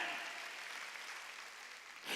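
Church congregation at a Wednesday worship service applauding, a soft steady patter of clapping that swells slightly at the close, with no one talking over it.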